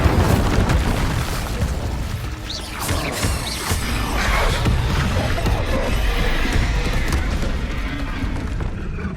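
The Confringo explosion spell in Hogwarts Legacy bursts with loud, booming blasts and crackling debris amid continuous dense combat noise.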